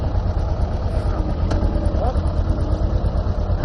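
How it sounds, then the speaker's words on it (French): A motorcycle engine runs at a steady low rumble during a riding lesson at a circus-style riding course, loud and close, with a voice speaking over it. "Contact, mettez la moto en route"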